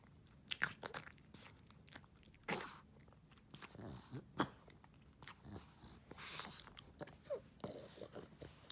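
A dog chewing and crunching a piece of sandwich up close, with irregular bites and crunches in quick bursts against a quiet background.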